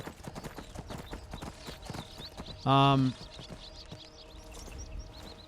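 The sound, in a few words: horse hooves in video game Dark Cabal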